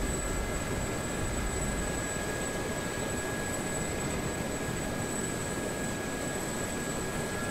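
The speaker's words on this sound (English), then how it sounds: "Furball with helicopters" Helicopter engines and rotors in the DCS flight simulator drone as a steady, dense roar with a constant high whine, loud and unbroken, with no talk.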